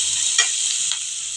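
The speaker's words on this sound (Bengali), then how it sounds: "এবার একটু দু মিনিট ভেজে নিই" Pumpkin and shrimp fry with turmeric in a pan, giving a bright, steady hiss at close range, with a single brief stir scrape near the start and a fainter one later, and no talking.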